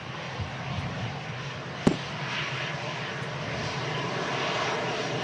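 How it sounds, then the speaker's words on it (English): An Airbus A330 airliner on its landing approach to Manchester Airport in strong crosswinds gives a steady, distant jet roar. The roar holds throughout, with one brief click partway through. "Another A330 heavy arrival."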